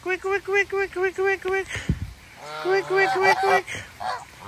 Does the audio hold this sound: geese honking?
yes